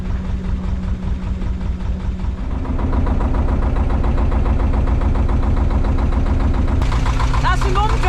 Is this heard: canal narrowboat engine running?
yes